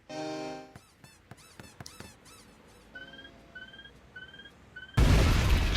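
In the Broken Sword video game, a sudden loud explosion bursts out at the end, after a run of sharp squeaky and tonal game sounds.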